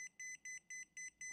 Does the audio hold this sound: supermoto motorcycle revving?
no